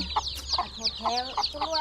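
Chickens at a rural Thai village home cluck close by, five or six short, clipped calls spaced in a quick, uneven rhythm over about two seconds.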